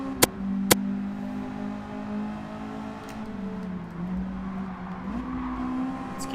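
A Honda race car in Gran Turismo 7 holds a steady engine drone through a race lap at Suzuka, its pitch dipping and climbing with the revs. Two sharp clicks come early, and no one speaks.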